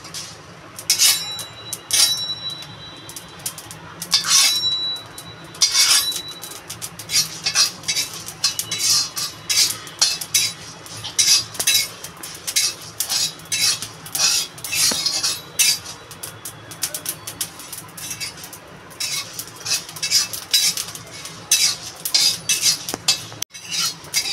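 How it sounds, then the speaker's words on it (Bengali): Coriander and cumin seeds dry-roasted in a wok, stirred with a metal spatula that scrapes and clinks against the pan in repeated irregular strokes, with no talking. "ধনে জিরে আমি শুকনো কড়াইতে ভেজে নিলাম"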